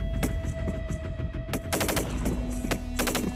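Swiss infantry soldiers fire assault rifles in a mountain exercise, sharp cracks in a rapid irregular string and clusters over a steady low engine hum from armoured vehicles.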